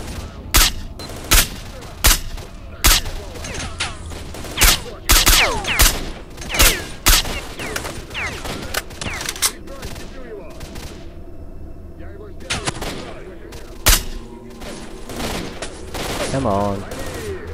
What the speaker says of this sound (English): so we can go shooting at them